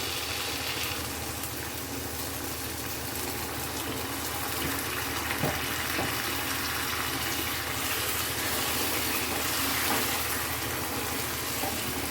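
Boiled water is poured from a flask into a pan of sweet-spicy rosogolla curry, making a continuous close splashing hiss that holds steady for the whole stretch without any speech.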